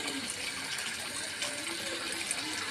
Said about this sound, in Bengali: কী করে জামা কাপড় চোবাচ্ছি তোমরাও শিখে নাও যে কী করে জামা কাপড় গরম জলে চুবাতে হয়